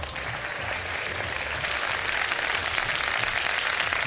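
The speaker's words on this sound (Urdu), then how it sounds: "تالیاں تو بجا دے بھائی." Sustained applause from a studio audience at a live Ramadan iftar TV show, dense and steady clapping throughout at even loudness.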